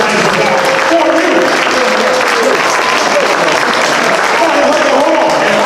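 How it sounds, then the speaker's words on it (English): Dense, loud applause from a crowd at a public town hall meeting on public safety held in a Baptist church, continuous clapping throughout with a voice audible underneath. "clap your hands and make some noise"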